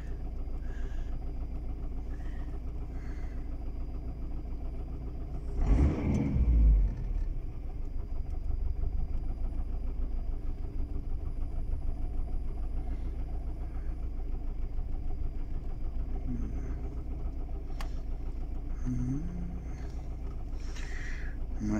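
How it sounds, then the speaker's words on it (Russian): A car engine idles roughly and unevenly while diagnostic tests run, a steady low rumble with vibration and one louder surge partway through, no talking. "Машина у меня работает нестабильно, от слова совсем."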